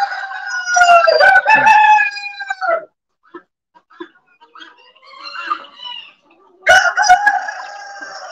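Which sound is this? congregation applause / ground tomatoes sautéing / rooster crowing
rooster crowing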